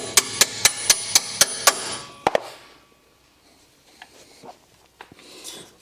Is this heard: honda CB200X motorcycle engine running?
no